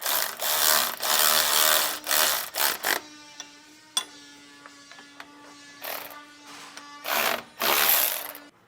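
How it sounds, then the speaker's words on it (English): Ratchet snugging the stock anti-sway bar bolts on a 2014 Ford F-53, with bursts of quick clicking, short separate clicks and pauses between them, up close with no talk. "we'll first snug down these stock bolts here"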